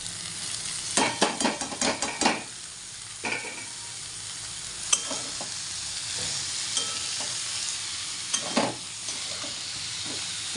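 Boiled banana flower is tipped into a pan with chickpeas for a Bengali ghonto and stirred. A steady sizzle runs throughout, broken by a cluster of sharp clattering spoon scrapes early on and a few more later.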